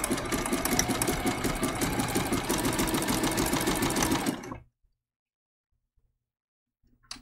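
A sewing machine stitches appliqué onto purple fabric for a baby giraffe quilt design, running at a steady, close, buzzing pace for about four seconds before stopping abruptly into silence.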